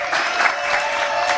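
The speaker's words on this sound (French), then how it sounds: "Ah, j'aime bien les applaudissements, c'est sympa." Studio audience clapping on a French television news and entertainment show, a dense, steady burst of applause lasting about a second and a half, close and loud with no talk over it.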